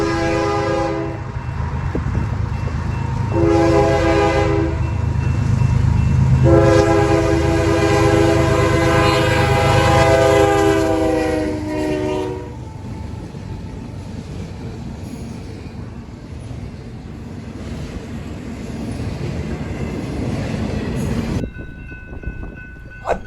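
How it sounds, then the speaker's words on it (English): A freight train led by Canadian Pacific GEVO and Kansas City Southern Tier 4 locomotives passes close by, blaring its multi-tone horn in repeated long blasts over heavy engine rumble, then rolling on with steady rail noise. "This train has a lot better power, with a Canadian Pacific GEVO, a Kansas City Southern Tier 4,"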